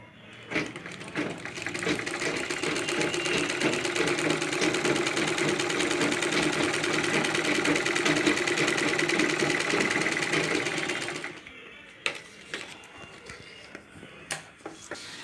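A tailoring sewing machine stitching practice lines on paper, a fast even mechanical rattle running continuously for about eleven seconds before stopping, followed by a few scattered clicks and handling noises.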